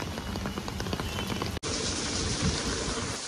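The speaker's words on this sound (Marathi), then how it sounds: "तुम्हाला दाखवतो कसा आहे मुंबईचा पाऊस" Monsoon rain falls in Mumbai near a lakeside, a steady dense patter of drops striking surfaces with a brief cut midway before the downpour continues, close and unbroken, with no talking.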